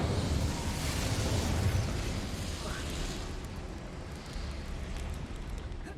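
Incendio fire spell cast in Hogwarts Legacy, a dense whooshing roar of flame that bursts loudly at first, then settles into a steady rumbling crackle that holds to the end.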